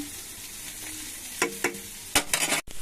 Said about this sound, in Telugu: కాస్త కాకరకాయ వేగాలి.